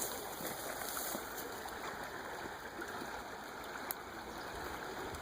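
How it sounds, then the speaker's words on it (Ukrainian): Fast, clean mountain river, the Bystrytsia, rushing past close by, a steady broadband wash of flowing water with faint splashes and no talking. "І дуже дуже-дуже швидка річка."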